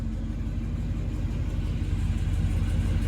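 A 1971 Chevrolet Monte Carlo engine idles with a steady, deep rumble through its dual exhaust, heard up close and evenly throughout with no voices.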